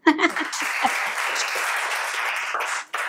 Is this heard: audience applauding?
yes